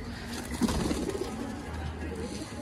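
Pigeons in a pigeon loft give soft, low coos in a short cluster near the start, close but fairly quiet. Steady background murmur and room noise carry on underneath.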